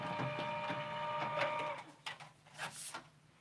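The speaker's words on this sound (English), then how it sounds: "Hang on, I'm going to die cut this." A die cut machine used for a shaker satchel and castellated frame die runs with a whirring, printer-like mechanical hum, then stops and leaves a few faint clicks and rustles nearby.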